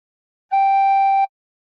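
A tin whistle sounds one soft-blown steady note, pure and close, lasting under a second amid silence.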